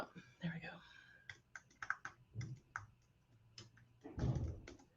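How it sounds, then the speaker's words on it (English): Quick bursts of computer keyboard typing, a series of light clicks in short runs, heard close up alongside some speech. "let me see if I can type it in real quick"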